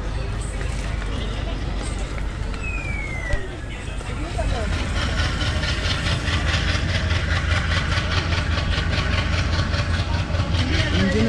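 Konkan Railway locomotive engine running steadily as the train pulls away on the Sawantwadi–Madgaon route, a continuous loud low rumble with rhythmic rattling building after a few seconds, a faint horn or whistle tone early, and background chatter throughout.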